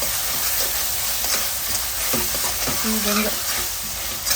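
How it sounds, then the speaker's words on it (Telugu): Ginger garlic paste fries in oil in a pan, giving a steady loud sizzle broken by a few scraping stirs. A brief voice speaks over it. "ఫ్రై చేసేసుకుంటున్నా"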